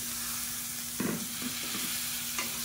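Chickpea masala sundal is stirred in a pan with a spatula, giving a few scraping strokes over a low, steady sizzle and a faint constant hum.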